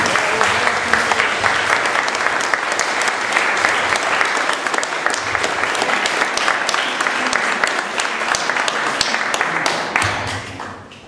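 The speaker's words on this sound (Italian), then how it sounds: "facciamo un applauso al nuovo presidente" An audience at a fireworks committee party bursts into dense, sustained applause for a new president, loud and even for about ten seconds before tapering off.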